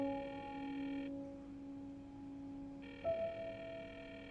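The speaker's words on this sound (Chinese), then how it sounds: "给打个电话。" An outgoing call on a phone: steady ringback tone bursts with a pause between, then a short click, heard close and quiet with no one answering and no talk.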